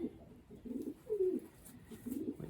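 A racing pigeon coos in the loft, soft low rolling calls repeated several times in quick succession, close and fairly quiet against a faint background.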